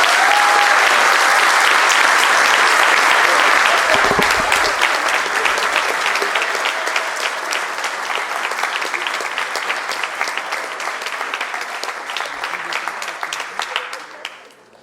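A council assembly applauds a newly elected communal council president with sustained, loud, dense clapping that slowly thins and fades toward the end.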